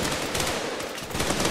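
A nail rifle or .50 cal fires in Running With Rifles, a dense, rapid stream of loud automatic shots that runs unbroken.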